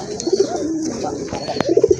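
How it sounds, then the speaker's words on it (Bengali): Pigeons for sale, among them an attractive female kept with eggs and chicks, coo in repeated soft rolling notes close by, with a burst of cooing at the start and another cluster near the end over light background noise. "এই যে দেখেন কবুতরের ডাক দেখেন"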